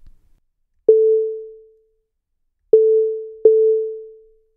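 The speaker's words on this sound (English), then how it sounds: "we'll hear an example of the sine wave." Three pure, steady sine-wave synthesizer tones, each starting abruptly and fading smoothly, the first alone and the last two close together, with silence between.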